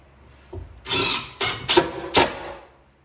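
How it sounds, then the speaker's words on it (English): A self-centering hinge drill bit bores a hole in wood for hinge installation, giving four short, raspy whirring bursts in quick succession, close and moderately loud. "self-centers, drills your hole right in the middle"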